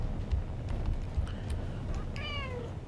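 A pet cat gives a single clear meow near the end, over a low indoor background with a few faint clicks beforehand.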